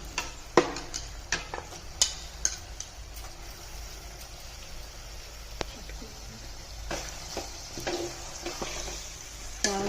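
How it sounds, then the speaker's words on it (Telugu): Mutton pieces tossed into a pan of softened onions for a Telangana-style mutton curry, giving a steady low sizzle with several sharp clinks and scrapes of a utensil against the pan, no one speaking. "ఉల్లిగడ్డ మగ్గింది మటన్ వేసుకుంటున్నా"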